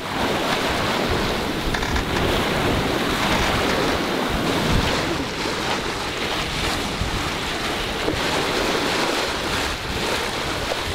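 Sailboat out on the open sea, with a constant loud rush of wind and waves and buffeting wind noise on the microphone throughout, steady and unbroken with no talk.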